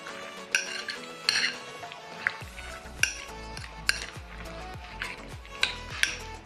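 A spoon clinks repeatedly against a bowl while beaten eggs are mixed with chopped vegetables such as carrot and cabbage, a close, bright, irregular tapping with soft, dull knocks in the second half.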